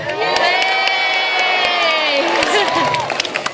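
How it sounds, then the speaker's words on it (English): Audience members at a sea lion show at Whipsnade Zoo cheer and shout, children's voices prominent, in a brief, loud burst of crowd whooping close by. "Oh, a few cheers there, well done."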